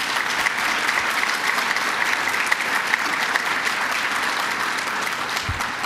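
An audience at a New York state announcement event at Niagara Falls claps steadily, sustained applause filling the space without speech.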